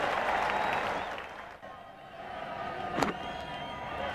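Cricket crowd at a Sheffield Shield final between Queensland and South Australia cheering and applauding as a half-century is brought up, a broad, sustained roar that dips briefly and then swells again, with a sharp knock partway through.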